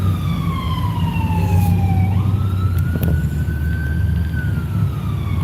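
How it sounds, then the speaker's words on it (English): An ambulance siren wails loudly and continuously as it passes through traffic, its pitch sliding down and then climbing again over a steady low road rumble. "No, it's an ambulance."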